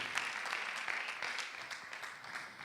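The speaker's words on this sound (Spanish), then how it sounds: "Le da un aplauso fuerte al Señor." Church congregation applauding during a Spanish-language sermon, a moderately quiet, brief burst of mixed clapping from many hands in a hall.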